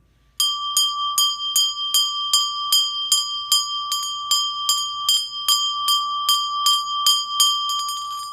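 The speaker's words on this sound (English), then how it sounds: "Just keep it nice and close to you, so you feel the grip, and then you are able to also ring the bell." A hand bell rung during a Hindu aarti puja, struck in a steady, even rhythm of bright metallic rings, about two per second, sustained and close, with no talking.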